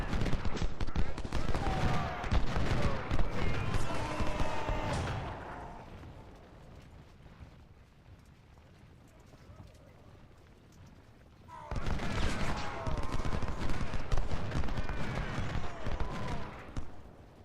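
Massed musket and artillery fire from a Civil War battle in the strategy game Ultimate General: Civil War, a dense, continuous roar of volleys that fades to a low rumble midway, then swells back to full intensity.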